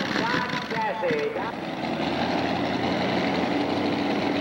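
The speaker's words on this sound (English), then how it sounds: "He's coming out with an Ankerville modified tractor. It's got a series in a Dodge chassis." A modified pulling tractor built on a Dodge chassis runs at a steady loud drone at a 1997 Illinois tractor pull in Mendota, a continuous engine roar filling the whole stretch while an announcer talks over it.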